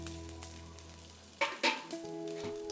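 Finely chopped ginger dropped into hot oil for idli usili: a close, quiet pan sizzle, then a couple of sharp spattering bursts as the ginger goes in, followed by a steady frying hiss, with no voices.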